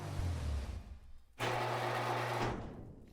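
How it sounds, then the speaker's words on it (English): The Ardent sports car from the video game GTA drives along a street, its engine a steady droning hum that dips briefly and then returns louder and sustained. "Let's test this car out on the street right now."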